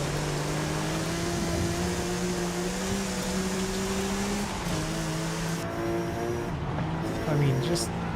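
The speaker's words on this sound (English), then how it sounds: "all these sports cars and rally cars, I love these mechanical sounds that they make." A sports car engine in the video game Forza Horizon 5 hums steadily with a sustained tonal drone that shifts pitch slightly as it revs, continuous throughout at moderate loudness.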